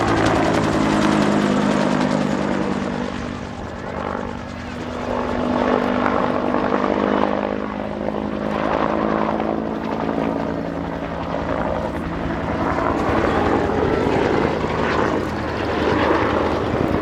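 A Bell UH-1 Huey helicopter, an ex-Falklands airframe, flies at Abingdon with a loud, steady rotor and turbine drone that swells and eases slightly throughout, with no voices.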